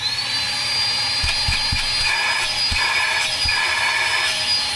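A shop vac runs steadily on 120-volt AC from an N1000 power station: a loud, continuous high-pitched whine with a broad motor roar, close by, interrupted by a few brief low knocks, and no talking.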